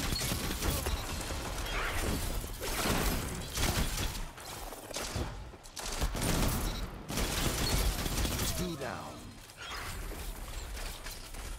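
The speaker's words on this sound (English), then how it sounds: "Give me that cover fire, baby." Dense, rapid gunfire from the Paladins shooter game keeps up with little pause, a harsh clattering barrage with mechanical rattles and impacts layered throughout.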